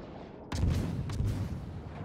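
A World of Warships destroyer battle with a Clemson, where a sudden loud naval gun salvo booms after a quiet moment, followed by a second report and a rolling low rumble.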